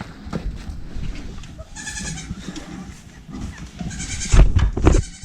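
Young goats bleat on a farm, a few nearby calls rising out of general barnyard noise, with a louder burst of bleating near the end.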